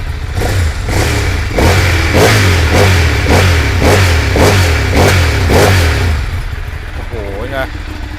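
A used sport motorcycle engine fires up and revs in a run of sharp, rhythmic throttle blips over a deep idle rumble, close and loud, while someone talks over it.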